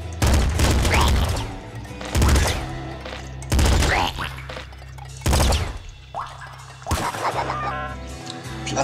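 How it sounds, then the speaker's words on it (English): High rate of fire gun in the Nuclear Throne video game: bursts of rapid, sharp electronic shots in four or five loud volleys with brief pauses between, mixed with game sound effects. "a gun with high rate of fire"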